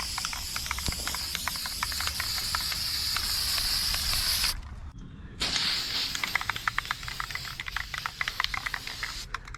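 Neon green Rust-oleum sprays onto takedown rod holders in a steady close-up hiss that stops for a moment and then starts again, with faint clicks and rattles underneath.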